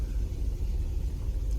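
Cars driving along a road behind two horses out hacking make a steady low engine rumble close by, a continuous vehicle drone with no talking.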